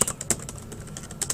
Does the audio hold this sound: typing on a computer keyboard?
yes